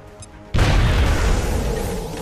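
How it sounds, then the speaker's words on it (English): A grenade detonating in XCOM Enemy Unknown: after a brief quiet lead-in, a sudden loud boom hits and rolls into a heavy, sustained rumble that slowly fades, close and powerful with no talk over it. "Grenade out."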